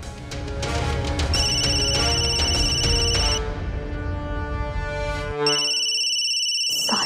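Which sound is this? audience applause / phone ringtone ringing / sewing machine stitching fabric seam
phone ringtone ringing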